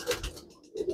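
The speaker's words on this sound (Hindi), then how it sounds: "तो देखिए किस तरह से लगे ये टेडी कबूतर, यंग कबूतर है" Soft, low coos from a young Teddy pigeon, a brief burst of two or three murmuring notes, close and quiet.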